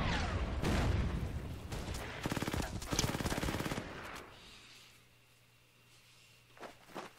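Sniper rifle shots crack in a WW2 Burma battle game, a scattered run of sharp reports and bursts over about four seconds, fading to quiet with a couple of faint distant pops after.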